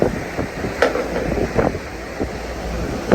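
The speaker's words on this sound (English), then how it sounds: "Kind of windy" Wind gusts buffet a boat approaching Jupiter Inlet in a southeast swell, a steady rushing roar with brief louder blasts against the microphone and washing water beneath, no voices.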